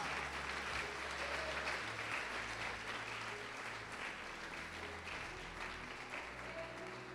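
A church congregation applauding, a dense steady wash of clapping from many hands that carries evenly throughout, fairly distant and without pauses.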